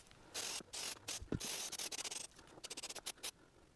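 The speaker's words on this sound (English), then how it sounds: "Let's go ahead and spray some around the back side." Spray adhesive hisses onto the headliner of a classic Crown Victoria in a series of close, loud bursts, first longer sprays and then rapid short pulses.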